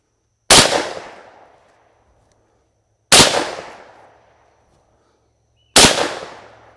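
Three loud, close shotgun blasts from a TriStar Viper fired at a cardboard pattern target outdoors, each a sharp crack with a decaying tail, spaced about two and a half seconds apart.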